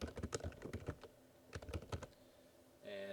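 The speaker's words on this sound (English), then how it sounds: "Go ahead and type your name" Someone typing a name on a computer keyboard: two short bursts of quick, light key clicks close by, separated by a brief pause, ending in a faint steady hum.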